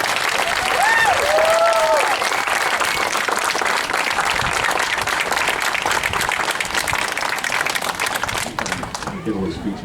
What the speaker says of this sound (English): I'd like us all to give a big round of applause for John Grubb.